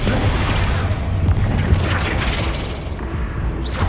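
Expulso blasting spell in Hogwarts Legacy, a deep rumbling explosion that booms at once and then rolls and crackles as it fades, loud and alone over about four seconds.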